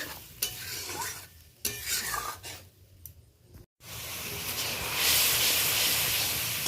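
Ground spices are stirred in hot oil, where they hiss and sizzle loudly as a spatula scrapes and stirs. A short gap of silence comes before a louder, steady sizzle builds again.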